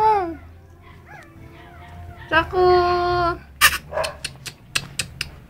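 A puppy whimpers and cries in high, wavering whines, followed by a string of short sharp yips, with a person speaking briefly over it.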